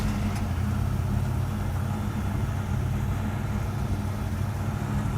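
A car engine that has just had distributor work and still needs tuning runs at a steady idle, a continuous low rumble at moderate level with no pauses or voices.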